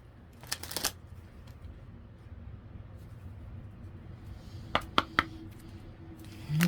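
A deck of reading cards being shuffled near the mic, with a quick riffle burst at the start and a few crisp card snaps later, over a quiet room hum.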